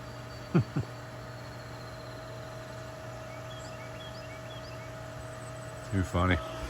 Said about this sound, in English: We got to leave the pump on.